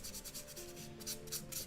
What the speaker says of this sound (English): now I guess kind of do a light sanding